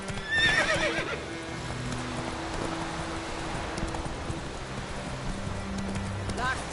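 Roach, a horse in a video game, lets out a loud whinny at the start, then keeps up a steady gallop of hoofbeats over a rushing, windy backdrop, with another short neigh at the very end.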